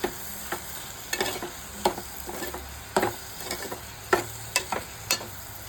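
Cooked chicken being stirred in a pan for Kerala chicken thoran, heard as a soft sizzle under repeated scraping strokes of a spoon against the pan, close and uneven in rhythm, with no voices.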